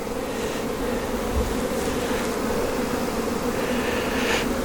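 Honeybees humming steadily during a spring beehive inspection with hive splits, a dense, continuous buzz that is close and fairly loud, with individual bees droning past now and then.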